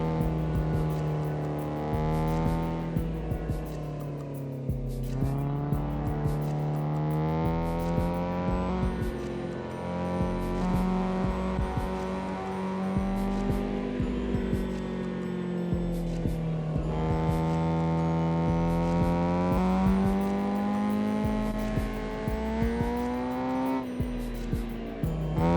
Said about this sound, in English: just the shitty sounds of those free mods as we're crashing into walls and guardrails on every corner